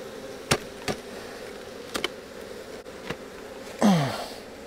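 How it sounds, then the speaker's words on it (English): Honey bees hum in a low, steady drone around an open backyard hive during an inspection. Several sharp knocks and clicks of hive parts break in, followed by a brief buzzy whine near the end, with no talking. "really if the bees are flying actively like they are today"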